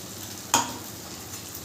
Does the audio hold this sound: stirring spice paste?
yes